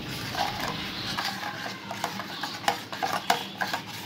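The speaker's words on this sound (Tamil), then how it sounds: "இதில் கொஞ்சம் திக்கான மோர் ஊற்றி கலந்துக்கலாங்க." Thick buttermilk is stirred into finger millet ragi porridge with a spoon, making close, light scraping and clinking against the vessel in a loose, irregular rhythm.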